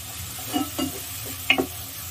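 Ginger garlic paste sautéing in a pan for vegetable pulao, a soft steady sizzle with a few brief stirring scrapes and clinks, close and without talk.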